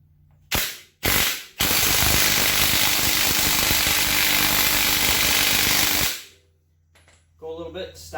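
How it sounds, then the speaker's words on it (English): A rear wheel bearing on a Polaris Sportsman ATV is driven out with a loud air impact tool: two short bursts, then a sustained rattling hammering for about four seconds before it stops and quiet clinks follow. "Just driving out the bearing."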